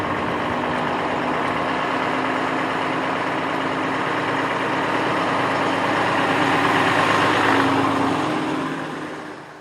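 A Birmingham Guy Arab bus running at a bus festival, its heavy diesel engine droning steadily and loud nearby, swelling slightly toward the end before easing off.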